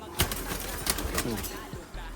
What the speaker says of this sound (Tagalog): Parehong kalapati na to.